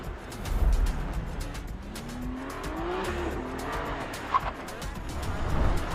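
A 550-horsepower BMW M2 is driven hard with a continuous engine roar and long, wavering tire squeals that rise and fall over several seconds, loud and steady throughout.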